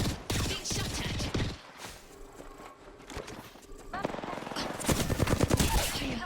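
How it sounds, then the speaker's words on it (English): Rapid bursts of automatic gunfire from the video game Apex Legends, loud and close, with a quieter stretch in the middle before heavy firing resumes, while voices talk over the action. "Being shot at."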